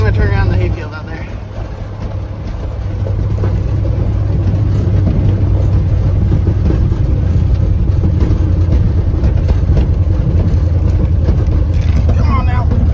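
A 1976 Ford F-250 farm truck with a flat tire and no power steering rolls along at low speed through a hayfield, its steady engine rumble and road noise running throughout while someone talks over it.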